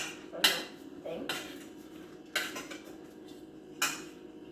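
A utensil scrapes and knocks against a pan, breaking up day-old rice stuck to the bottom, with four distinct metallic scrapes spaced a second or so apart, close and moderately loud.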